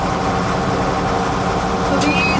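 A tractor engine runs steadily in a hay field during baling, a loud, continuous close-up drone holding even throughout.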